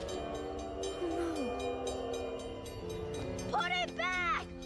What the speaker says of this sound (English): The train is coming! The train is coming!